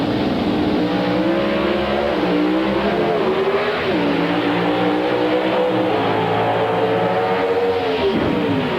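A pro stock drag racing car with a 500 cubic inch engine, running on racing gasoline through two large 4-barrel carburetors, roars loud and steady, its engine pitch rising and falling across several revs.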